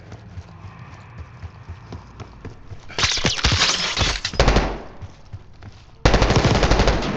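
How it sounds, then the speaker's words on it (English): Bursts of rapid gunfire from the video game Call of Duty: Black Ops 6 crackle in loud, dense volleys, the first lasting about a second and a half, then a second burst starting near the end. "You hearing gunfire?"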